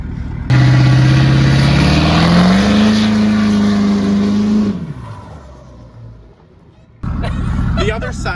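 Heavily overloaded pickup with an aluminum bed carrying about 13,000 lb of concrete, making a boost launch: a loud sustained engine roar rising in pitch for several seconds, then dropping away before another burst of engine and road noise.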